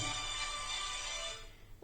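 A telephone ringtone chirps steadily indoors at moderate level during a coaching lecture, then stops abruptly near the end, with no voices heard.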